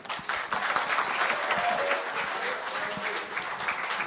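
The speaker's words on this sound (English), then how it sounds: "Big round of applause, please." Guests at a wedding applaud the speeches, a full, close patter of many hands clapping steadily with some crowd noise beneath.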